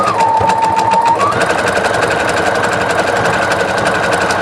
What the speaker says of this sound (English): And you're going to see how nice this sews with the sliver metallic thread.